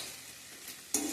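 Chicken curry meat stirred and frying in a pan, a soft continuous sizzle with faint stirring scrapes, then a sudden louder hiss near the end.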